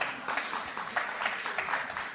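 A studio audience on the Aap Ki Adalat set breaks into steady, moderately loud applause, rippling clapping that rises and dips over a couple of seconds.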